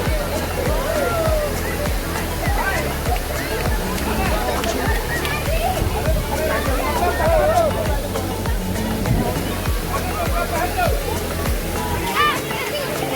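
Water flowing steadily at Neer waterfall near Rishikesh, a continuous loud rushing wash with sloshing and gurgling close by, with faint voices of people murmuring underneath throughout.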